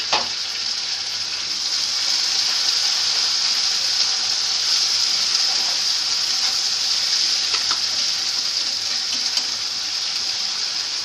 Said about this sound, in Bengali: মশলাটা একটু ভাজা ভাজা হবে